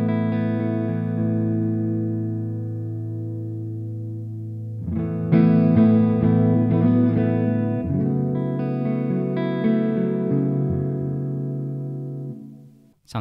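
Clean electric guitar through the Primo APFX amp plugin on an American Classic Clean channel with reverb at 30%, a ringing chord that sustains and fades, then a new strummed passage that blooms into a wash of reverb tail.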